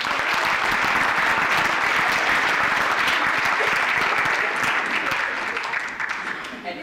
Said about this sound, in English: We have to applaud that